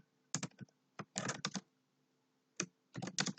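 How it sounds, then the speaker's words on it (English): Bursts of typing on a computer keyboard, quick clusters of key clicks separated by short pauses, close and fairly quiet in a still room with no voices. "type in career and life assessment"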